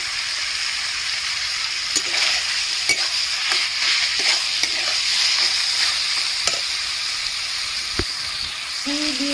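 Four chopped green chilies fry in a pan under a continuous close sizzle, with a spoon scraping and clicking against the pan at irregular intervals as they are stirred; no one speaks.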